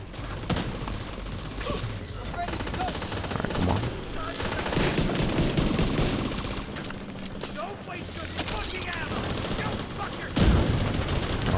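Rapid automatic turret fire rattles in bursts during a fight in the video game The Division 2, with explosions and game effects mixed in and a player talking over it.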